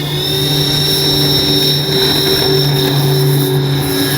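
A radio-controlled OV-10 Bronco model airplane with retracts powers up for a takeoff with flaps down from a rough runway. A loud, steady engine whine with sustained tonal hum runs unbroken throughout.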